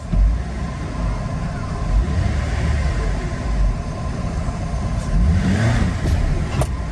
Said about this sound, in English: the transmission did have that kind of high RPM shift into reverse